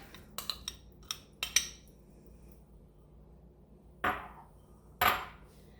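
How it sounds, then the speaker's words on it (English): Canned pumpkin puree scraped out with a spoon into flour for grain-free dog cookies, a cluster of quick metallic taps and clinks, a pause, then two soft scraping plops. "Grab my spoon over here. Go ahead and dump that in there."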